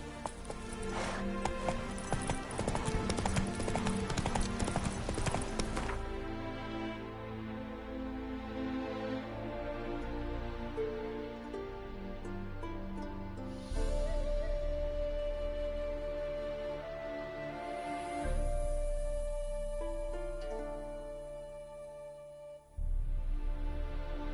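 Hooves of Geralt's horse Roach galloping in The Witcher 3, a fast rhythmic clatter that is strongest at the start and then continues more faintly under music and game ambience.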